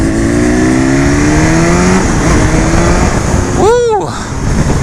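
A 2019 BMW S1000RR 1000cc sport motorcycle accelerating on a test ride: a loud, close engine whine rising in pitch through the gears, with a brief rev and downshift blip near the end under heavy wind rush.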